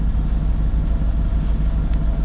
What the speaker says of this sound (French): On est au moteur.